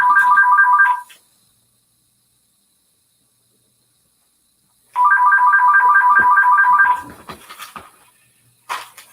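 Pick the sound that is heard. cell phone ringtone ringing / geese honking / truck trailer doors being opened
cell phone ringtone ringing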